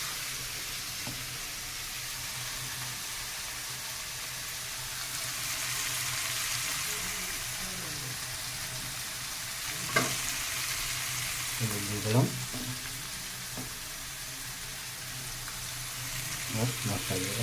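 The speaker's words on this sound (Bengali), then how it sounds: "আদা রসুন আর লঙ্কাটা ভালো করে ভাজা হয়ে যাবে" Ginger, garlic and chili fry in oil that sizzles steadily, a continuous crackling hiss with a few sharp clinks and stirring knocks near the end.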